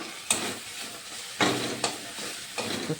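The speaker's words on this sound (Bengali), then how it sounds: "তেল ছাড়া না পর্যন্ত আমি এগুলোকে কষাবো, একটু টাইম নিয়ে কষাতে হয়।" Spices with Kashmiri chilli powder sizzling and frying in hot oil, with a spoon stirring and scraping the pan in a few distinct bursts over a steady hiss.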